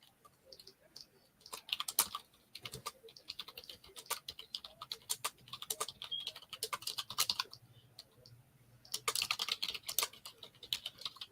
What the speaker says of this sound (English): all the very loud typing